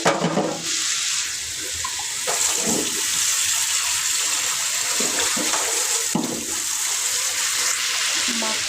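Water runs and pours into a cooking pot of spiced fish and potato curry, a steady rushing stream with a few splashes and clinks, alone with no speech.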